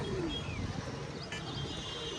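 Pigeons in a loft at the onset of rain give a few faint, low coos against a quiet background of soft rustling.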